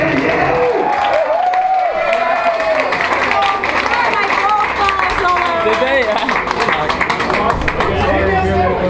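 Concert crowd at a show at Oliver Hall clapping and cheering for a band member, a loud continuous wash of applause and shouts mixed with crowd noise, while voices talk and call out over it.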